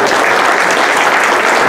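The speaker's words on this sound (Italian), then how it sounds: "Qua c'è un altro applauso" Loud, dense applause from diners at a medieval-themed dinner event, a continuous close wash of many hands clapping for the whole short stretch.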